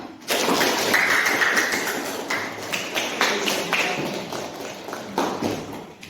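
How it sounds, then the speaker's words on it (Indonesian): Applause from a small group of students in a classroom or meeting, honoring three group representatives during a coaching session; a burst of scattered hand clapping that swells and then fades out over several seconds. "beri aplaus untuk ketiga perwakilan dari tiga kelompok ini"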